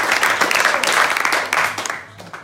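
Loud, close applause from an audience at an exclusive pre-party for a business event, dense clapping that swells and dips over a couple of seconds before fading.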